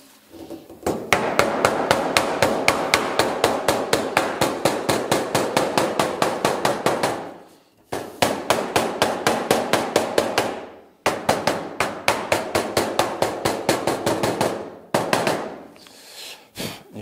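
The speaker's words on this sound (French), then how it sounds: "j'utilise le côté rond du marteau et j'y vais vraiment avec parcimonie" Round side of a hammer tapping a zinc gutter outlet into shape, with rapid, evenly spaced metallic taps in three long bursts separated by short pauses, close and clear with no talk.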